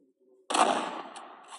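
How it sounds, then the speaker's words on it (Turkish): A gun fires in Minecraft with a gun mod, one loud sudden blast after a brief faint tone, then a ringing decay that trails off. "Böyle gördüğünüz gibi başka bir silah deniyorum. Bu silah ilk defa deniyorum şu anda."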